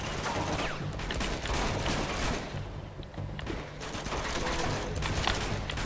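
Continuous heavy gunfire rattles through an Uncharted 2 firefight in the Borneo jungle, with dense overlapping shots and mechanical clatter held at a steady loud level throughout.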